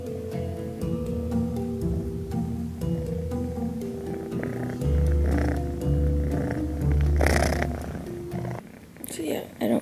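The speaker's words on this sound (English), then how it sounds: "You can probably hear bug purring." A close, loud cat purr rumbles in steady rhythmic waves, low and throaty, with a voice speaking softly over it near the end.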